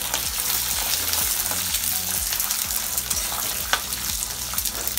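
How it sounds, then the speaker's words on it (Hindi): Almonds and chillies frying in hot oil for an evening snack, a bright crackling sizzle with repeated scraping stirs and small pops, close and steady. "अब मैं यहीं पर एक साथ बादाम और मिर्चा एक साथ डालूंगी और इसको मैं अच्छी तरह से फ्राई कर लूँगी"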